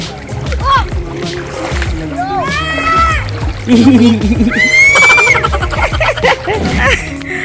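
Water splashing and sloshing as people wade across a shallow, rocky river near waterfalls in Bulacan, close irregular splashes under lively talk and laughter from several voices.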